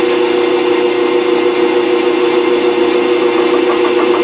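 An old machine with Babbitt bearings and cold grease spools up in a woodshop, giving a steady, loud mechanical hum with a strong droning tone that holds evenly throughout, no voices over it.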